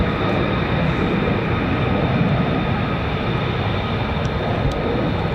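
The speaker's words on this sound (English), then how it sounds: "I thought I heard that distinguished, that unique howl of the F-22s." An F-22 fighter jet with Pratt & Whitney F119 engines roars at an RAF air base, a loud, unbroken, broadband howl that holds steady throughout with no voices.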